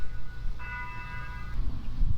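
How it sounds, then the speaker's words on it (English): Church bell ringing faintly in the distance, a single sustained tone with clear overtones that lingers for about a second and then fades out. "Waiting for the church bells to stop ringing."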